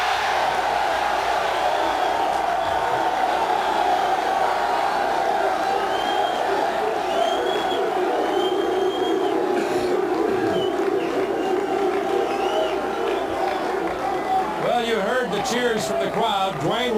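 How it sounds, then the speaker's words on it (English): A large arena crowd at the 1986 NBA Draft keeps up a steady roar of cheering and applause throughout, with a sustained wash of voices and occasional whistles. "Cheers from the crowd."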